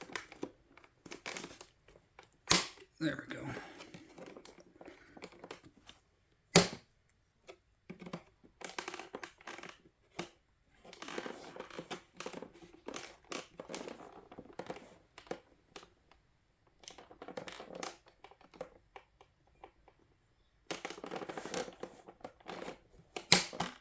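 Scissors snip and crinkle through plastic toy packaging while a 2022 giant TMNT Michelangelo re-issue figure is unboxed, with bursts of crackling and cutting scattered across the clip and a brief spoken remark.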